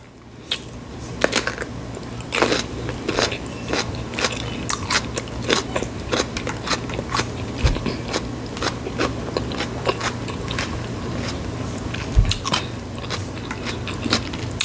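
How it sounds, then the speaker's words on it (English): Close, crisp bites and steady crunchy chewing of a fresh cucumber repeat throughout, loud and continuous with no talking. "Eat on this cucumber."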